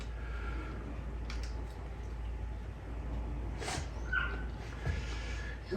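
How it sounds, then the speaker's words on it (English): Puppies whimper faintly in the background inside a house, giving a few short, thin whines and yips over a steady low hum. "I hear puppies in the background complaining"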